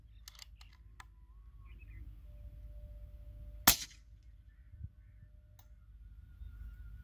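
A shotgun slug fired during partridge hunting in Pakistan with a Nova Vista Leviathan PSR2 Wood, heard as one sharp, loud report near the middle, with a fainter thump after it over quiet outdoor background.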